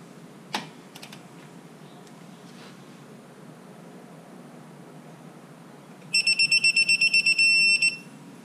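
A torque wrench set to 30 foot-pounds tightens a brake line bolt during a big brake conversion on a 2019 Silverado. A few sharp clicks come early, then quiet, then a rapid run of high electronic beeps near the end.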